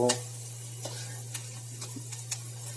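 Chopped tomatoes, onions and chillies fry in a pan with a spoonful of asafoetida, giving a steady low sizzle with occasional soft ticks and stirring scrapes, close and fairly quiet.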